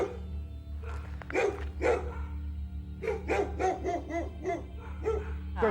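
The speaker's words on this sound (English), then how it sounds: "We got 3 dogs on the bear right now." Three dogs bark at a mother bear guarding her cub in the woods, repeated loud barks and yips in bursts, with a brief pause before a rapid volley.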